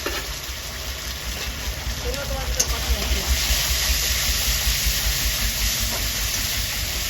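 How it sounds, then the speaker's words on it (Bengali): Spice mixture frying in a pan with turmeric and salt, a steady moderate sizzling hiss that swells slightly midway, with a faint voice briefly in the background. "মশলাটা আমি ভালো করে ভেজে নেব"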